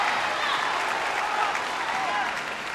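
A crowd applauds after a rally at a women's world open squash match, with sustained clapping that fades slightly near the end and a commentator's voice underneath.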